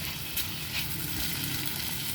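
Pork cubes sauté in a pan for mung bean stew, giving a steady, soft sizzle with faint stirring, without a break and with no voices.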